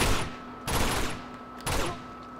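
Gunfire in Uncharted: Drake's Fortune, three sharp, loud shots spaced about a second apart, each with a brief echoing tail over a steady low hum.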